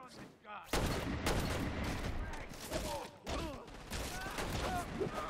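Dense gunfire rattles in Crackdown 2 on Xbox 360, with rapid bursts and booming shots overlapping loud and close across the scene. Shouted voices and other game sounds mix in.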